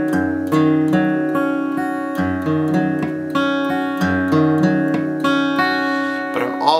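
Acoustic guitar with a capo playing the intro of a song, picked notes ringing in a steady rhythmic pattern, close and clear, no talking.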